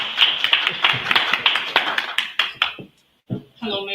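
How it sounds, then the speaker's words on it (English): A small convention audience claps for a speaker named Catherine, a sparse, close patter of individual hands that thins out and stops, then a voice begins talking. "Can we clap for Catherine?"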